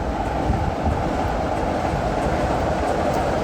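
Steady low rumble of a British Rail class 24 diesel locomotive at Broadway station, continuous and fairly loud, with a dense throbbing drone and no voices.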